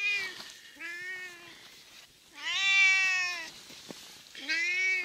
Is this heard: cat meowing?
yes